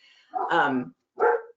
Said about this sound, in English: you can hear my dogs in the background, huh?